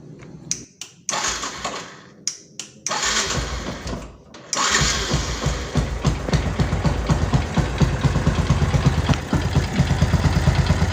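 Rebuilt Yamaha Byson motorcycle engine cranking with a few starter bursts, then catching and settling into a loud, close, steady idle with a rapid ticking pulse.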